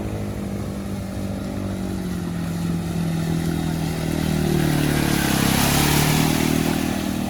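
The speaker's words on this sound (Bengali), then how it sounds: "তো আরেকটা বাইক সেদিক দিয়ে আসছে।" A motorcycle rides along a road submerged by floodwater in Assam, its engine drone building steadily louder as it approaches, with a broad watery rush rising alongside.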